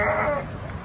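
A sheep in rural Lamjung, Nepal, gives a single short, loud, nasal bleat close by that fades quickly within a second.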